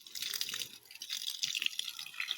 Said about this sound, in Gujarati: મમ્મી જો ઝાડવાને પાણી પાઈ.